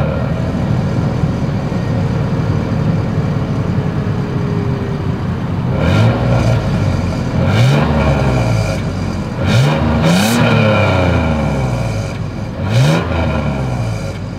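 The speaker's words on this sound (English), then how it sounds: "As always, here is that exhaust clip." Exhaust of a 2024 Toyota 4Runner idling, then revved several times in short bursts, each rev rising and falling sharply over a steady rumbling idle, loud and close.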